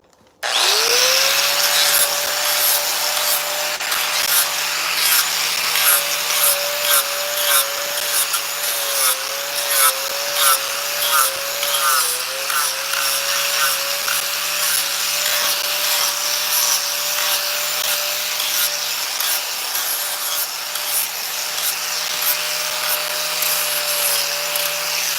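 A 4.5-inch angle grinder spins up and carves into wood to shape a morel mushroom, a loud, sustained whine that wavers in pitch as the disc bites and rubs against the workpiece.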